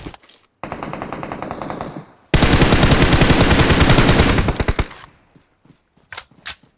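Automatic gunfire from the video game PUBG rattles in long, rapid bursts, the loudest stretch dense and continuous, followed by a few scattered single shots near the end.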